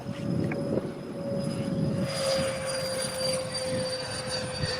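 A scratch-built model B-1 aircraft flying at an airfield gives off a steady, high-pitched engine whine that holds throughout at moderate distance, with a broad rushing hum underneath.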